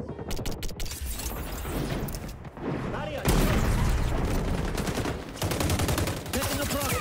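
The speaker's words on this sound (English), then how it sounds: "Grenade out!" XDefiant shooter game combat with a grenade blast and bursts of gunfire, starting with rapid clicking shots, then a heavy thumping explosion and ongoing loud rattling fire and mechanical clatter, close and intense.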